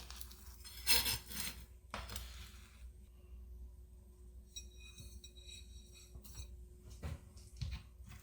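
A knife cuts through a pesto grilled cheese sandwich, giving a few crisp crunches and rasping scrapes of toasted bread against a plate, quiet and close with no talking.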